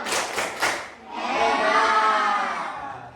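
A class of schoolchildren claps out a thumb-clap cheer for a group: three quick rhythmic clap bursts, then a long stretch of children chanting loudly together.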